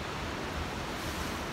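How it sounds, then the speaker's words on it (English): Sea waves roar and crash against rock formations on the rugged coast of Achill Island, Ireland, a steady, loud, unbroken wash of surf with wind noise buffeting the microphone. "hopefully you can hear me above the roar of the sea here"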